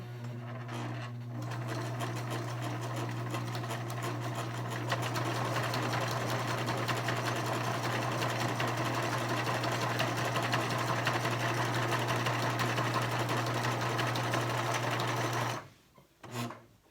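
A sewing machine runs steadily, top-stitching about 3/8 inch along the edge of a fabric 3D face mask. The hum stays loud and close for roughly fifteen seconds, then stops with a few faint handling noises.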